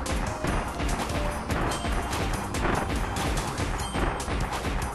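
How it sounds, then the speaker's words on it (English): Shooting down enemies in Kirby's Return to Dreamland, a dense, continuous barrage of crashing, popping game effects and shots layered over background music, loud and busy throughout with no pauses. "let me go ahead and just shoot them down"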